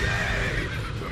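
Horses neighing in the fighting game Jojo's Bizarre Adventure All-Star Battle, a loud whinny over rumbling hoofbeats and low in-game battle noise, continuous for a brief moment.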